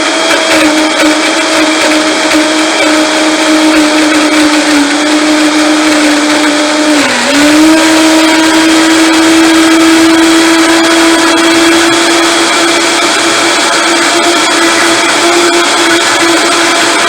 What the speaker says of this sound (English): Just make sure before you turn your blender on, it's set into the low setting.